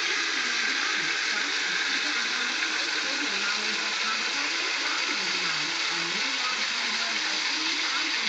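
A 3,000-gallon-per-hour bilge pump discharges a strong, steady gushing flow of water, loud and continuous throughout, with a voice faintly audible beneath it.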